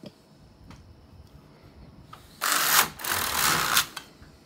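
A knitting machine carriage is pushed across the bed, knitting rows of a Jacquard and Fair Isle colorwork project. Two loud, raspy sliding passes come after quieter clicks and handling sounds.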